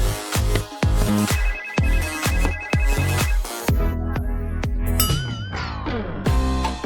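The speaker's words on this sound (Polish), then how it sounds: "Dlaczego ona po prostu nie odbiera tego telefonu?" Phone ringtone playing a repeating chiming melody, loud and close, with plucked bell-like notes struck in a steady rhythm for several seconds and no talk.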